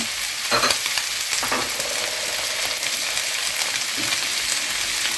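Peppers sizzle and crackle loudly in a hot pan, a constant frying hiss broken by a few clinks and stirring scrapes.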